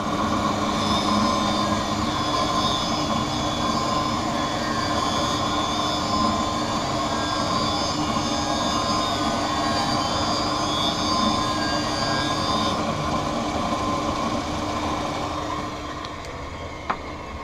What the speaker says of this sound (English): So the safety bevel is being applied to the back surface of the lens.